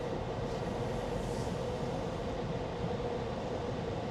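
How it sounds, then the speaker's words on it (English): A train rolls past near Pepin, a steady, loud rumble with broad noise that holds evenly throughout without pause. "And this is where the train comes through."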